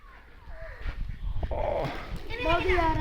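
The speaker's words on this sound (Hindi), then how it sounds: "ये कुत्ता आ रहा है।" A dog whimpers and yips near a pet shelter while ducks are being washed at a tubewell, heard under several people's loud, excited talking.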